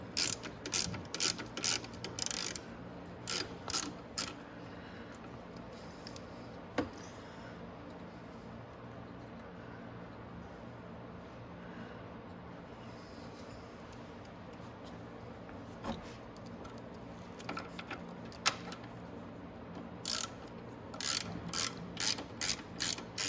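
Ratchet with a 10mm socket working a fastener on a Venom x22 125cc motorcycle during a voltage rectifier change, quick clicking bursts at the start and end with quieter mechanical handling and faint background in between.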